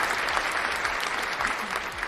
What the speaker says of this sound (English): I also have some applause.